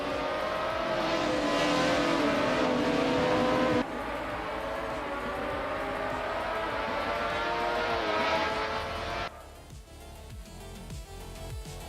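A Eurobrun ER188 race car in a racing video game howls at high revs, its engine pitch climbing through the gears in loud, sustained pulls with abrupt shifts and a sudden drop near the end; no voices.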